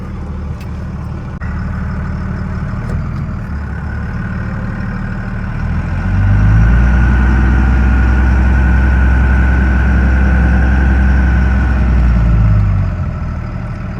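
A 2002 Cummins diesel Ram pickup with transmission problems pulls away in first gear, its deep engine rumble idling at first, then rising into a louder, sustained low drone while accelerating before easing back near the end.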